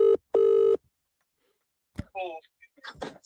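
A mobile phone on a bed rings in two loud, steady tonal bursts close by, followed by a pause and then someone talking.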